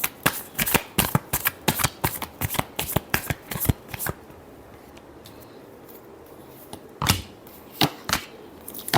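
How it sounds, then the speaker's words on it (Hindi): Cards shuffled for a tarot reading, a fast close run of crisp riffling snaps for about four seconds, then quiet with a few last taps and shuffles, no voices. "Last shuffle."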